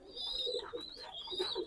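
A Pakistani highflyer pigeon at a Khulna loft gives close, rhythmic low coos in a few pulsing phrases, with a thin high whistling tone running above.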